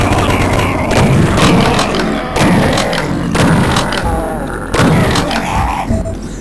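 Chain gun fire in Duke Nukem 3D, heavy repeated thumping bursts that come in loud clusters with short gaps, close and dominant throughout.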